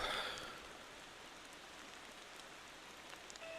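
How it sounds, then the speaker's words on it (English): Steady rain falling in the truck-driving game Motor Town, a constant soft hiss of drops on surfaces with a few faint taps, no voices. "Hopefully this rain will stop."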